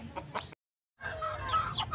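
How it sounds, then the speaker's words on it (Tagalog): A black Parawakan rooster gives short, close clucks and throaty calls, broken by a brief silent gap before softer clucking and faint chirps resume. "Yung ating tandang na binili."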